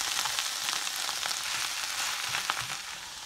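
Cabbage pieces fry in a pan over medium heat, a steady close sizzle with scattered crackles and soft scraping as the leaves are stirred and moved around, no talking.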